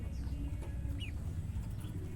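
Brooding hens on a small farm give soft, faint clucks with one brief higher call, set against a quiet, steady outdoor background.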